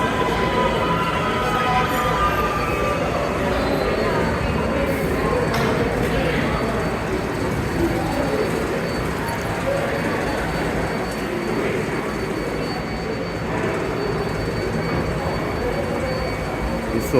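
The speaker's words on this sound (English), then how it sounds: "And this train arriving is going to Hudson Yards." An 11-car R188 7 subway train pulls into the Flushing platform at Grand Central, a loud continuous rumble and roar of wheels and motors filling the station, with a voice speaking under it.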